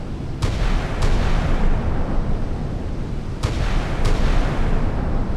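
An F-22 Raptor in the naval combat game Sea Power fires its cannon at long range: four sharp, brief bursts in two pairs cut through a steady, loud engine-like rumble, with no voices.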